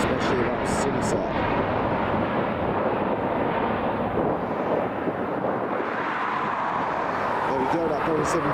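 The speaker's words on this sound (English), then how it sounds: "that Boeing 737 MAX heading over to Rome" A Boeing 737 MAX airliner taking off from Dublin Airport, a loud steady broadband jet roar sustained throughout, heard from outdoors at a spotting area.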